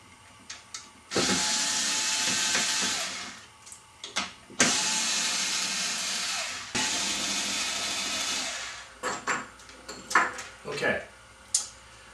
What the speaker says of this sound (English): using my trusty power drill, I'm going to be going in and removing all of these little tiny screws